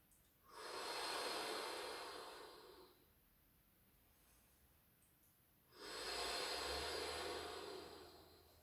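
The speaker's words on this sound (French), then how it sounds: "Inspire. 3 fois." Two long, deep inhalations during a children's breathing exercise, each a loud airy rush lasting a couple of seconds, separated by a quiet pause, heard close up with no talking.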